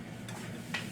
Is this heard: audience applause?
no